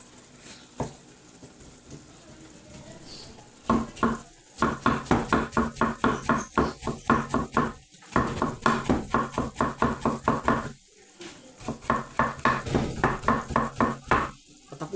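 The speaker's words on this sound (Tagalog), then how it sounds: "Tapusin ko lang pong hiwain to" A knife cuts bitter gourd (ampalaya) on a board for a kilawing ampalaya salad. Bursts of quick, even chopping strokes come close and crisp, broken by short pauses.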